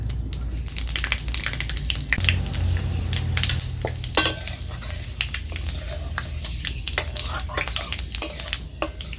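A dried red chilli and a bay leaf crackle in hot oil in a pan, a steady close sizzle broken by scrapes and clinks of a spatula stirring against the metal.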